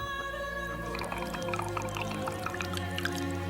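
Expensive pure nard perfume is poured from a container onto feet in a biblical drama, with soft scattered drips and trickles over a sustained musical backdrop.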